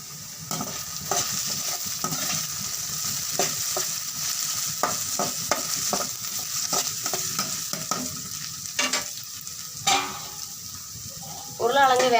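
Potatoes sizzle gently in a pan for a stir-fried Tamil poriyal, with repeated scraping stir strokes and soft clatter. A voice talks intermittently over the steady cooking sound.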